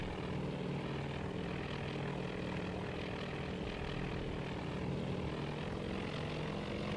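Float plane fighters launch from a seaplane tender in the naval battle game Task Force Admiral, a steady droning propeller engine roar that holds evenly throughout at moderate level, with no talk.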